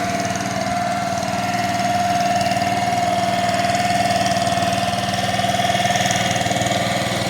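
Small fishing boat engine on the Alleppey backwaters in Kerala, a steady mid-pitched motor drone with a constant tonal hum, running evenly throughout with no talk.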